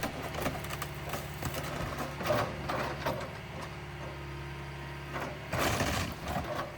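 An excavator without a thumb tears down a sagging building, its steady hydraulic engine hum overlaid by irregular crunching, clanking bursts of debris being grabbed and pulled, moderately loud throughout.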